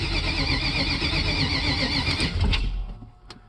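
An engine cranks and catches, its loud steady rumble running for about three seconds before cutting out, heard up close with no talk.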